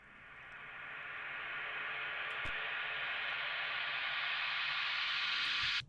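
A reversed hi-hat sample drenched in heavy reverb for a Drumcode-style techno track forms a hissing, noisy wash that swells steadily for about six seconds and then cuts off abruptly, with no voices.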